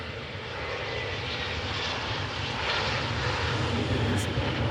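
A United Express airliner at Cleveland Hopkins airport gives off a steady, loud engine roar that swells slightly as it passes, with no talk over it.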